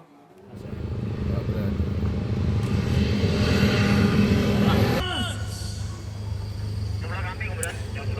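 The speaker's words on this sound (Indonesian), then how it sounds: "Pesawat tempur jenis Super Tucano dan pesawat jet F-16 Fighting Falcon terlihat mendarat di Jalan Tol Trans Sumatera" Super Tucano and F-16 Fighting Falcon fighter jets landing on the Trans Sumatera toll road in Mesuji, Lampung: a loud, broad jet roar swells over several seconds, then shifts abruptly to a lower, steadier rumble, with voices beneath.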